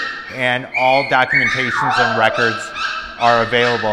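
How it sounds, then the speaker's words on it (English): Small Cavapoo puppies bark and yip near the microphone while a person talks steadily over them indoors. "You can hear the little guys barking right now."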